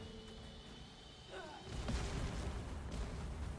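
A burning Chungus monster blows up in Dragon's Dogma 2, a sudden broad low boom that swells partway through and rumbles on, set against steady game noise and music.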